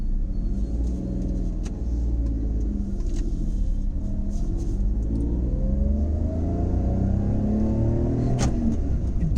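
Steady engine note of a first-generation Maruti Suzuki Alto with its 800cc three-cylinder motor, a loud continuous low rumble with slowly rising revs and a faint rattle, no talking.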